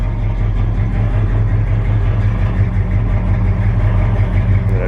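A rebuilt Chevrolet 350 V8 truck engine idles steadily up close, a loud, low rumbling loop with a slightly uneven, lopey pulse, heard alone without talk.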